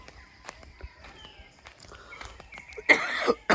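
A man's cough outdoors near a drainage pipe, a couple of harsh broadband bursts close to the microphone near the end, following quieter rustling and footsteps.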